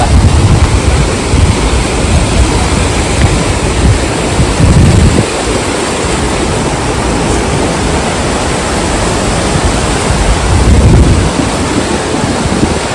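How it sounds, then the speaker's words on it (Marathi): A waterfall at Bhandardara, Maharashtra, roaring as a loud, continuous broadband rush of falling water, with slight surges in intensity and no voices. "इथे एक दुसरा एक वॉटरफॉल आहे"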